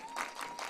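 A home baseball crowd at an NCAA Super Regional game in La Verne swells with applause and cheering in short bursts, a broad wash of clapping without clear voices.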